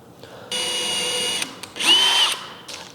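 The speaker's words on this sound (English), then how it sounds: "After I get that top right-hand corner drilled out, I'm gonna put my drill bit back in" A power drill bores a corner hole in a kayak bow accessory plate, its motor whining steadily and then rising in pitch as the bit bites through, with no talking.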